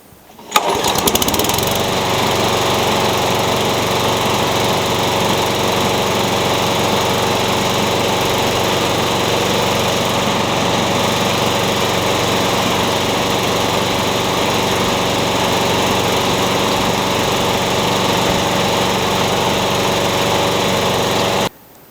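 A freshly tuned-up lawn mower engine starts up and runs steadily at a constant high drone for the whole stretch, then cuts off.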